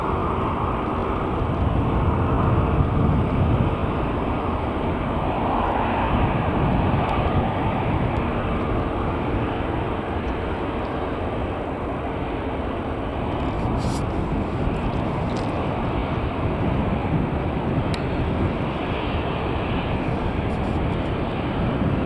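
An Airbus A350 airliner at Manchester Airport produces a steady, loud broadband jet roar that holds at an even level throughout with no pauses.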